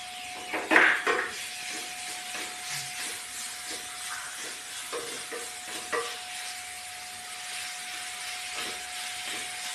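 Carrot sautés in coconut oil in a pan, giving a soft, continuous hiss of frying with a few faint stirring taps and one louder clatter near the start.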